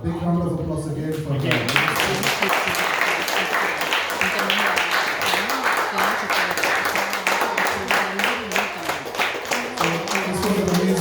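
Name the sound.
audience applause after a presentation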